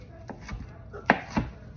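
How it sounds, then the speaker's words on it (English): Knife chopping garlic on a cutting board in a home kitchen: a few sharp, separate knife strikes, two of them louder and close, with no talking. "I'm chopping my garlic."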